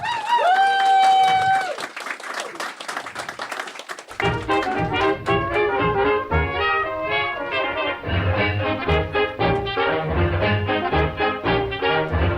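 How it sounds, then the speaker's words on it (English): A live podcast audience gives a small, brief ripple of applause after a spoken introduction, quickly followed by music starting up. "I would really like to call for you now to do a small ripple of applause"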